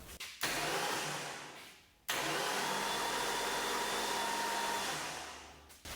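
A long-dormant Ford 460 V8 is cranked over in two sustained whirring bursts separated by a brief pause, loud and close, with no voices.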